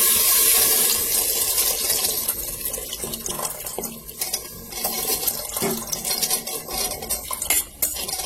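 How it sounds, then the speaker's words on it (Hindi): Boiled chickpeas are tipped into cooked masala in a pressure cooker, giving wet clatter, scraping and stirring noises with metal utensils against the pot, continuous and close, with no talk. "अब मैं इसमें अपने छोले ऐड कर दूंगी।"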